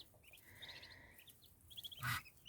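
Young ducklings newly moved from the nest into a small indoor pen give faint, high peeps in short clustered bursts, a soft background hiss beneath them and no talk.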